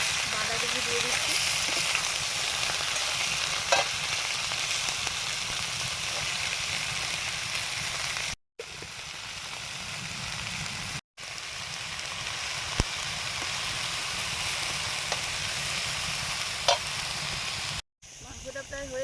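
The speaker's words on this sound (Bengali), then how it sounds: "চিংড়ি আলুগুলো ভাজা হয়ে গেছে, এবারে বাঁধাকপি দিয়ে দিচ্ছি।" Cabbage being fried with prawns and potatoes in a pan, giving a steady close sizzle and crackle that runs throughout with brief gaps, occasional small clinks, and a voice talking faintly underneath.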